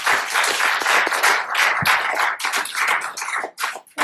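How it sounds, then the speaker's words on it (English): Audience applause for speakers at an ex-Muslim conference, a dense, loud, sustained burst of many hands clapping that thins briefly near the end. "Please let's hear a round of applause for our speakers."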